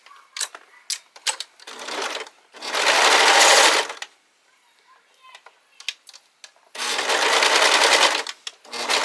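A serger sewing machine with a faulty knife stitches over fabric, running in two loud bursts of a few seconds each. Light clicks and handling noises fill the gaps between the runs.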